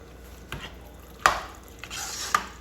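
A spoon scrapes and knocks around a pot of kidney beans and drained black beans, giving a few distinct clanks spaced out over a soft background, close and moderately loud, with no voices.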